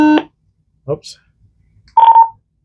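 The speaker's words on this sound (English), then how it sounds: "hopefully this helps you set up your talk permit tone on analog and on your digital P25 channels" A Motorola XTS5000 radio gives short electronic beeps. One brief tone comes at the start and a steadier tone near the end, with a quick spoken word between them.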